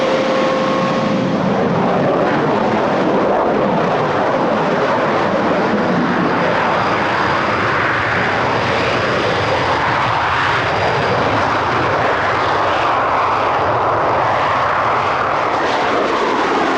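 Royal Air Force aeroplanes take off in a continuous loud roar of aircraft engines that swells and fades, with no talk over it.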